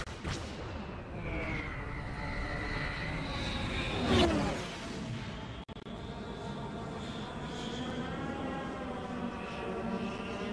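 A Star Wars starship powers up for takeoff with a loud sustained engine roar and a rising whoosh that peaks midway, followed by a sharp clunk and a continuing hum.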